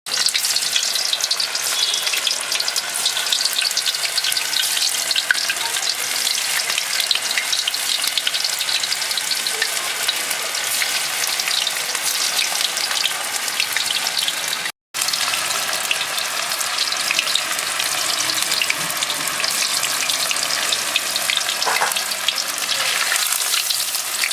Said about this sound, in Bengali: আমার তেল গরম হয়ে গেছে আমি কর্নগুলো ভেজে নেব